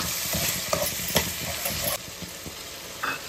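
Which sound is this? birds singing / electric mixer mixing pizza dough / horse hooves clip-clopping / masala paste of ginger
masala paste of ginger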